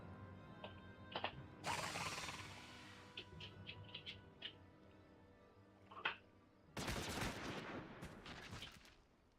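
A pistol unloaded in the video game Final Fantasy XIV, heard as two long loud bursts of rapid gunfire mixed with mechanical clicking and ratcheting sounds, separated by sparse sharp clicks and no talking.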